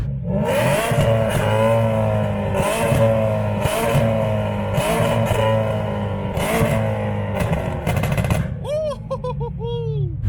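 A loud, deep, bassy BMW E93 M3 engine idles steadily with a throaty Gintani race exhaust rumble, pulsing rhythmically, and then a brief chirping sound near the end.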